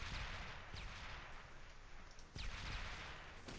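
Howitzer artillery fire in a video game battle, a distant rumbling barrage with several sharp booms standing out over a steady roar of explosions, fairly faint overall.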